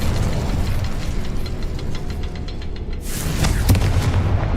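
Fire spells cast inside a cavern in Hogwarts Legacy give loud, rumbling blasts, a burst of crackling impacts and then a sharp explosive boom near the end, all close and heavy with no speech.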